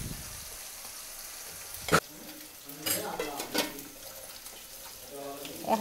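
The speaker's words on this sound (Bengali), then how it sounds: "এখানে এগুলো ভাজা হচ্ছে," Spices with onion and garlic fry in a pan for a Sylheti fish dish, soft sizzling broken by sharp spoon and pot clatter, with a voice speaking over it.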